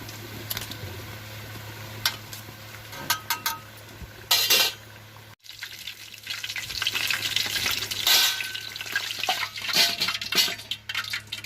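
Chilli bajji frying in hot oil, a steady sizzle with scraping and clinking as the pieces are turned with a ladle in a pan, quiet and close with no talking.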